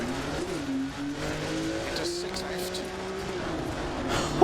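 A Porsche rally car in a sim racing video game drives flat out through a forest, engine note rising and falling with gear changes and a steady drone, loud and close throughout.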